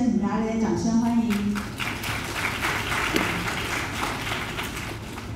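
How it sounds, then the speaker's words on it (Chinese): A live audience at a youth working-holiday information session in Taipei applauds to welcome a speaker, steady clapping filling the room for several seconds and tapering slightly near the end. "大家的掌声欢迎"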